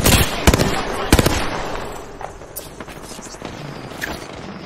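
Gunfire in Apex Legends on Kings Canyon in a ranked match, sharp rapid shots in clustered bursts early on, then scattered fainter reports amid game effects.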